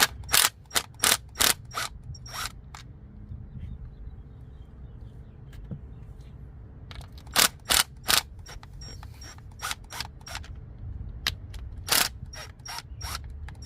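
A T25 bit ratchets on the screws of a 2015 Ford Focus window regulator motor, with bursts of sharp clicking in irregular runs separated by quieter pauses, close up and without talk.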